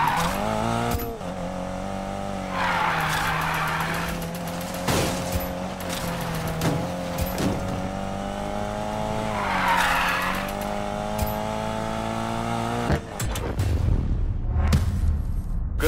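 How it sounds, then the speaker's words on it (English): A car drifts in Need For Speed Payback, its tires skidding and squealing in long sustained bursts over a loud, steady engine drone. Two brief swells of heavier screech and some sharp knocks break it up before the engine note changes near the end. "Do not lose this drift,"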